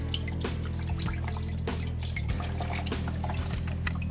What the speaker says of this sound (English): when you pull the drain plug, coolant's going to come out all over the place.